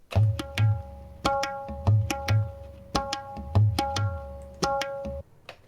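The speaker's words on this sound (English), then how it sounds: "it's like a set of multiple drums, I believe, used in traditional Indian music." Tabla drums play a lively rhythmic pattern of resonant pitched strokes and deep bass thumps, with ringing tones repeating in short phrases.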